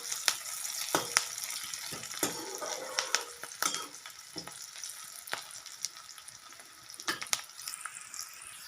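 Onions crackling in a little leftover fish-frying oil in a wok, a steady close sizzle broken by sharp pops and scraping clinks of a spoon, with no talking.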